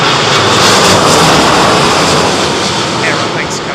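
Aeromexico airliner landing at Heathrow Airport in strong wind, a loud, steady broadband roar that fills the whole stretch with wind buffeting over it and a brief shout near the start.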